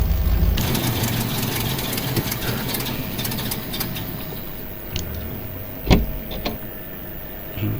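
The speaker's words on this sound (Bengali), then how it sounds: "এখন এই গাড়িটা নিয়ে" A truck engine idles in the MudRunner off-road game, a steady low mechanical drone that holds throughout at moderate level, broken by a few sharp clicks and knocks near the end.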